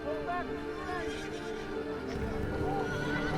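A spooked team of horses neighs and whinnies in shrill, rising calls over a dense, steady outdoor rumble with hoof clatter, and a person talks underneath.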